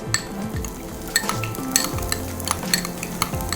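Onions and chopped ginger sautéing in a pan, a steady close sizzle with a spoon repeatedly stirring and clinking against the metal, no voices.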